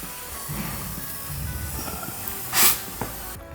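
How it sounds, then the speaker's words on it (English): A short, sharp hiss of urethane foam sealant sprayed into corner gaps of floor framing bursts out against a low background rumble and faint handling noises. "I seal the gaps at every corner with urethane foam."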